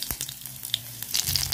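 Green chilies and black cumin hit hot mustard oil in a heated kadai, giving a soft, steady sizzle with small crackles and pops that grow livelier toward the end, no voices.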